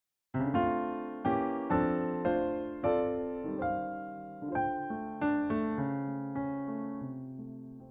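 A piano plays a series of rich jazz chords, each struck and left to ring out before the next, unaccompanied and moderately soft.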